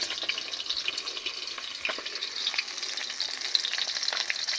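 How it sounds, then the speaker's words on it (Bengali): Tilapia fish frying in oil on a home kitchen stove, giving a steady, bright crackling sizzle with scattered pops throughout, close and continuous with no talking. "এপাশে চুলায় মাছ ভাজি হচ্ছে, তেলাপিয়া মাছ।"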